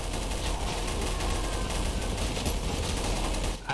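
Sustained loud machine gun fire in the Garry's Mod Zombie Survival game, a dense continuous rattle of rapid shots that barely pauses until near the end.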